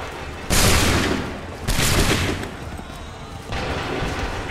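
A musket volley crashes out in Assassin's Creed III, with loud broadband bursts near 0.5, 1.7 and 3.5 seconds. Each blast is followed by a ragged, decaying roar of gunfire.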